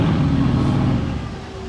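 An Aston Martin Valkyrie engine revs loudly at close range in a brief, gritty burst that settles lower and fades a little toward the end.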